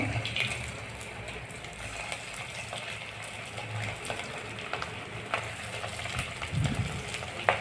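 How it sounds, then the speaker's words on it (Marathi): Medu vada batter sizzles and crackles steadily in hot oil, a soft continuous frying hiss with occasional faint stirring or clinking sounds. "आता आपलं तेल तापलं आहे. मी आता तेलात सोडत आहे."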